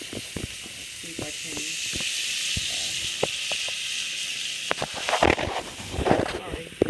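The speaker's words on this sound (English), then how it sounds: "it's just kind of frying in the pan" Beef sizzling and crackling in a hot pan, a steady hiss with scattered pops, close by, with a person talking at moments.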